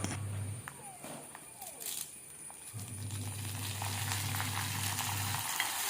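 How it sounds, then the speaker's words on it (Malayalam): Curry leaves and dried chillies frying in hot oil for tempering vella kadala curry, a faint steady crackling sizzle with a low background hum, no clear talking. "അതിലോട്ടൊരു 2 തണ്ട് കറിവേപ്പിലയും കൂടി ഞാൻ ചേർത്ത് കൊടുക്കുന്നുണ്ട് കേട്ടോ. അതും കൂടി ഫ്രൈ ആക്കി എടുക്കാം"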